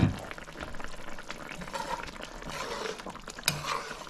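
Okra bubbling in water for a fish curry with green mango, a steady close simmering hiss with faint bubbling, one brief sharper clink near the end, no talking.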